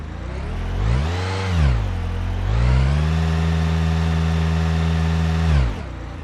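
A car engine idles, then revs up twice in short swells before holding a long, steady higher rev and dropping back, with a loud, close, droning tone throughout during a battery voltage test.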